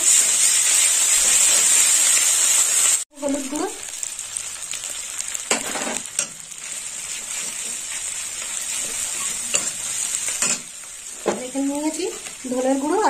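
Cauliflower sautés with ginger and garlic paste in a pan for kosa phoolkopi, a steady close sizzle and hiss with brief stirring scrapes, broken by a short pause near the start.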